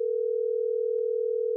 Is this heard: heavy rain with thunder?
no